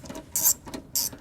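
A hand wheel on a 10mm socket with extension turns a screw during headlamp assembly removal on a GM truck such as a Chevrolet Avalanche or Suburban, giving two quick close ratcheting clicks separated by soft mechanical rattling.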